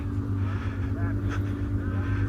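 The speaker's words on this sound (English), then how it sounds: "The car sounds great." A Porsche engine idles steadily at an outdoor car show on a golf course, a loud continuous low rumble with a faint rev bump midway and voices murmuring in the background.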